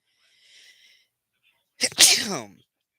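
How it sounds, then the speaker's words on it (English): A person sneezes once, loud and close: a short sharp inhale, then a single explosive burst, following a faint breathy sound, during a severe weather broadcast. "I had to sneeze."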